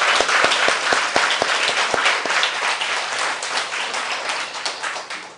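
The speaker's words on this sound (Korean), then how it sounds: "저분들 위해서 우리 박수 한번 쳐드립시다." A church congregation at a summer retreat claps for the kitchen staff, dense steady applause with a few sharp individual claps standing out at the start, close and loud throughout.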